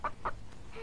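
A hen gives two short, clear clucks in quick succession, followed by a softer third note, fairly quiet and close, with no talking.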